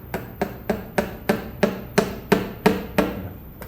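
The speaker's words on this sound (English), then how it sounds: "please hammer. So what we'll do is we'll just make a pilot hole." A hammer striking a tool to make a pilot hole for a suture anchor during an orthopedic surgery workshop, ten sharp evenly spaced taps with short ringing decay, close and clear with no talk.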